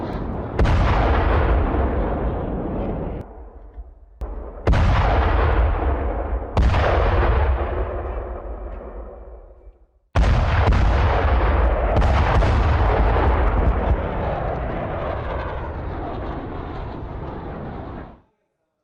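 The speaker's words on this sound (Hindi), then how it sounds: "ये रूसी सेना ने एमएलआरएस का इस्तेमाल करते हुए हमले को दिया अंजाम" Russian MLRS rocket artillery striking a fuel depot: several loud, close booming blasts in quick succession, each with a long rumbling decay, ending in a sustained roaring explosion that fades out.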